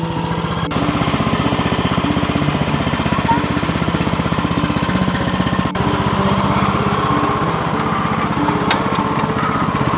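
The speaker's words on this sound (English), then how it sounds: "let's drive the lawn tractor and hopefully we don't get stuck" A lawn tractor drives outdoors near a garden with its small engine running loud and steady, a rapid even chug that continues throughout with no talking.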